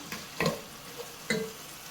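Curry leaves dropped onto softened onions in a hot pan, a low gentle sizzle with two sharper scraping stirs, quiet and close, no talking.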